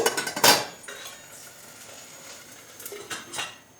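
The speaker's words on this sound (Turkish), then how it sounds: "Böyle olduğunda ağzını kapatalım. Altını da kısalım." A lid clatters onto a pot of boiling pasta on the stove, with a burst of close metallic clinks at the start and a few more near the end, and no talk.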